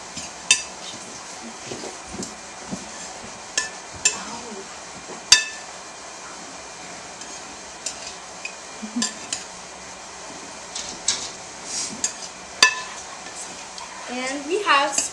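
Spanish potatoes being mixed together in a dish, with a utensil giving scattered clinks and scrapes against the dish over a low, steady background.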